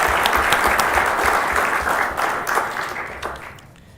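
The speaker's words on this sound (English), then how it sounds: "So let's give them a round of applause." A crowd applauds steadily with dense clapping at a city council meeting, then the sound gradually fades toward the end.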